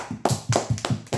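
A small group gives a round of applause for a man about to read chapters of the Bible aloud, the claps falling in about five distinct bursts, fairly close and loud.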